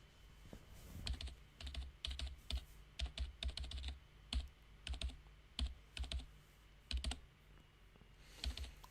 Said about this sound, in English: Oh, now we get typing.